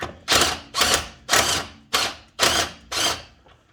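A hand ratchet tightens a bolt on a drag shock in six evenly spaced bursts of rapid clicking, close and crisp, each stroke followed by a short pause.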